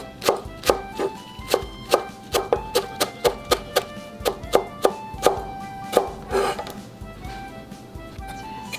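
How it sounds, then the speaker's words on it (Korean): Knife chopping garlic chives finely on a cutting board, a quick run of sharp, evenly spaced chops that slows and softens toward the end, close and alone with no talk. "부추는 최대한 잘게 썰어 줄게요."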